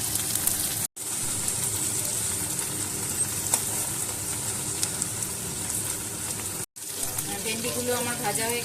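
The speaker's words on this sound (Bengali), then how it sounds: "কড়া বসিয়ে গ্যাসে তেল গরম করে আমি ভেন্ডিগুলোকে সব ভেজে নেব।" Okra frying in hot oil in a kadai on a gas stove gives a steady, loud, close sizzle that fills the whole stretch, broken by two brief sharp cuts to silence.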